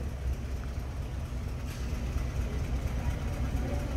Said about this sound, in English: Very smooth running V8 underneath the hood.